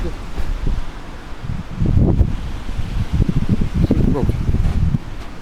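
Wind gusting outdoors near a large rock formation, a steady low rumble with buffeting bursts against the microphone that swell and fade throughout.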